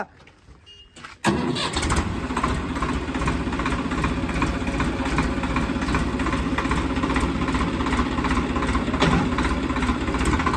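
A new 855 tractor engine starts abruptly after a short quiet moment, then idles with a steady, loud rumble and chugging that continues to the end.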